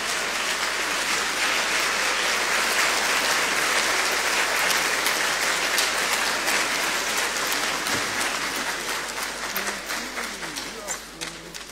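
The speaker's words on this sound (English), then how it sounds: "A round of applause, please." Loud, sustained applause from a large crowd at an education address by Ghana's Minister of Education, steady throughout and thinning slightly toward the end, with scattered individual claps.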